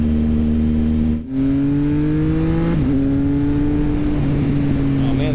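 A 2019 Triumph Speed Triple motorcycle accelerates hard: a loud, close engine note climbs steadily in pitch, briefly drops out once, then pulls on through a shift with wind rush.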